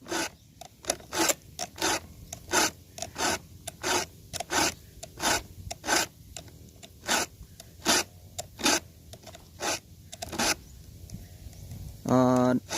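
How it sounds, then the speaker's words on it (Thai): Steady, rhythmic rasping strokes of a file across saw teeth, about two per second, close and crisp, with a brief voice at the end. "ส่วนวิธี แต่ง ฟันเลื่อยนะครับ แต่งฟันเลื่อยก็"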